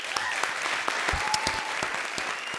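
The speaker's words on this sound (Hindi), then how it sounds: "उसके लिए जोरदार तालियां हो जाएं।" Enthusiastic applause from a comedy show audience, a steady wash of clapping with sharp individual claps standing out, sustained and fairly close throughout.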